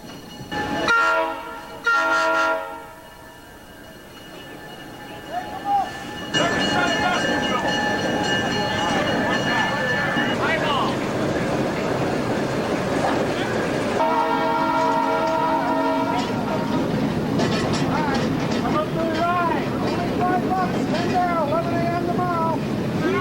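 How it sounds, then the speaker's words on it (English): An Adirondack Railroad train at dusk near Woodgate, loud horn blasts sounding at the start and again midway, followed by a sustained heavy rumble of rolling cars with wind buffeting the microphone and squealing wheels toward the end. "It was dusk as the train proceeded through Woodgate"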